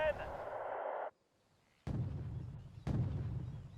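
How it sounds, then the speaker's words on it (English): Rocket artillery strike landing in the Wargame: Red Dragon battle game, two heavy booming impacts about a second apart with rumbling low tails, following a stretch of talk and a brief silent gap. "Now we have the rocket artillery coming in again."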